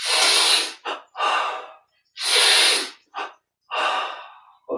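Deep breaths drawn in and pushed out during a yoga-style breathing exercise, long loud inhales and exhales alternating with short sniffs, close to the microphone and with no talking.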